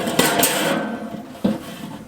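Metal cooking grate set onto a Weber kettle grill fitted with a charcoal chamber and heat deflector, giving a couple of close, sharp metallic clanks and a brief rattle, then another clank near the end.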